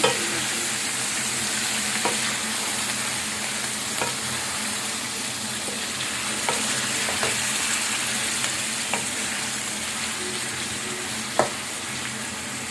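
Chicken pieces sizzle steadily in a karahi with garlic-ginger paste, a continuous near hiss broken by a few sharp ticks of a utensil against the pan, with no voices.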